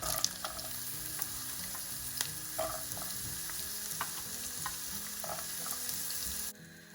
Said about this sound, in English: 1 tablespoon of oil, and goes in 1 chili and 1 red onion chopped up